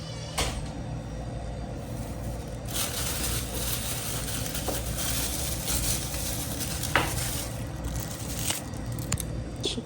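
Chicken adobo cooks in a pan, with a soft continuous sizzle under scattered utensil scrapes and stirring clinks, and no talking.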